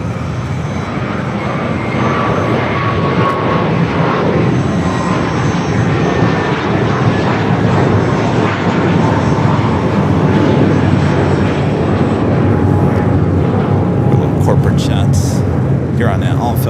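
An airliner on its takeoff roll down runway 25 Right at LAX, bound for JFK, gives off a steady, loud engine roar that holds for the whole stretch, with a voice talking over it.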